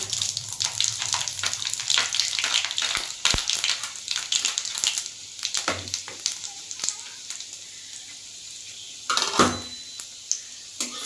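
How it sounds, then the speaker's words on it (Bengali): Whole spice tempering sizzling in hot oil in a wok for a dish of taro greens, with a bright crackling hiss running throughout, scattered pops and a clatter near the end, close by. "তো আমি এবার এই ফোড়নটা দিয়ে দিচ্ছি।"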